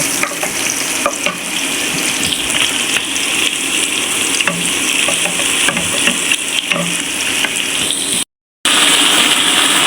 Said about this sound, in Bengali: আমি তেলের ভিতরে আলুগুলো ছেড়ে দিলাম, আলুগুলো ভেজে দিব